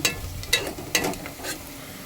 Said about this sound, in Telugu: ఇదిగోండి ఫ్రెండ్స్, చూడండి ఉల్లిపాయలు ఇంకా కొద్దిగా ఎర్రగా అవుతున్నాయి. ఇది ఎర్రగా అయ్యేంతవరకు మనం ఇంకా దీన్ని వేపుకుంటూనే ఉండాలి.